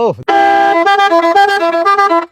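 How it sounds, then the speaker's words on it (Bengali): A loud, tonal bus horn fitted to a double-decker bicycle blares in a long sustained blast, then pulses in quick repeated honks, close by. "এটা আছে দুইটা বাসের হর্ন লাগানো আছে, এটা যে হাই ভোল্টেজ বাসের হরেন"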